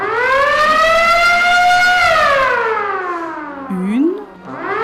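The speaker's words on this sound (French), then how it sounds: "La sirène retentit. On compte 3 coups courts." A school lockdown siren, meant as three short blasts, holds a loud, wailing long rising-then-falling tone, followed by the start of a second blast near the end.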